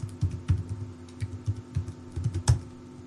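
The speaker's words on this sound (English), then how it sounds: "typing in your root password" Typing on a computer keyboard, a sequence of light, irregular key taps in a quiet room, close and fairly soft, with a few sharper strokes among them.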